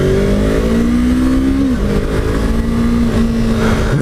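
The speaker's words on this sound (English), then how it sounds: "I don't know how well you guys can hear the bike, but it has a really interesting sound." A 2015 Yamaha R3 300cc motorcycle accelerates, its engine buzzing loudly and steadily up through the revs with a short dip as it shifts gear, close and continuous under wind noise.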